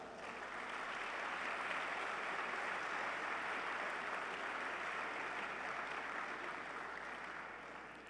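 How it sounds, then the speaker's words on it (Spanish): Sustained applause from a large audience at a formal church gathering welcoming an archbishop, a dense, even roar of clapping lasting several seconds, heard from a distance. "Recibámosle con un aplauso."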